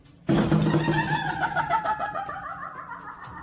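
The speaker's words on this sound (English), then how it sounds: "This door sounds like a witch, and I'm not even exaggerating." A long, wavering creak of a door swinging open, starting abruptly, loud and close, then slowly trailing off.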